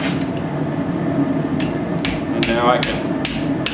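A cross peen hammer strikes hot metal on the edge of an anvil while forging a split cross, a short burst of about five sharp ringing blows near the end after a brief spoken phrase.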